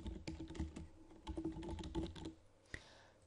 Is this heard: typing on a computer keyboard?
yes